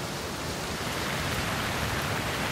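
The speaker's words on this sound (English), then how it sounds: "For 40 days and 40 nights, it rained." Heavy rain in an animated Bible flood scene comes through as a dense, loud, unbroken hiss that stays constant throughout.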